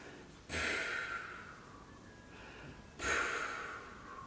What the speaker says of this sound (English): they learn the technique of what's called pursed lip breathing